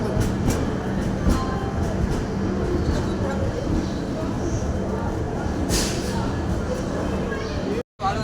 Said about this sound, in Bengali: ফাইনালি আমাদের ট্রেন ছেড়ে দিয়েছে